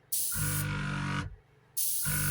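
Gaahleri Ambition series airbrush compressor set around 21 PSI, spraying in short hissing bursts of steady air with a low motor hum underneath, starting and stopping twice, fairly quiet and close.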